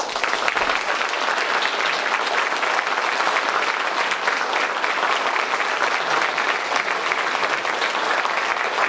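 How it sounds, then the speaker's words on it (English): A Lutheran church congregation applauds confirmation students, a loud, dense and sustained round of clapping that fills the sanctuary evenly from start to finish with no talking. "you may greet them and give a blessing with your applause."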